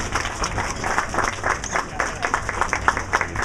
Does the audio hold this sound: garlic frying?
no